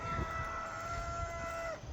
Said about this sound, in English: we all know you're a rooster now